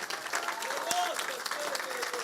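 Applause from a church congregation carries on in a steady patter, with voices rising over the clapping.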